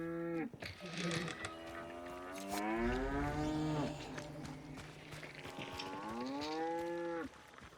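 Cows moo loudly in long, drawn-out calls, one after another, close by, in the video game Hunt: Showdown 1896, with some faint shuffling noises underneath.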